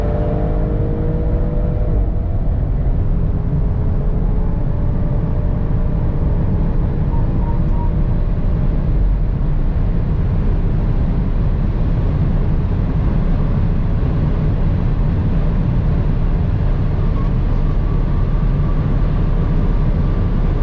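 A Tesla P85D electric car cruising at highway speed, its steady broadband road and wind roar loud and continuous throughout, with a faint rising whine early on and no voices.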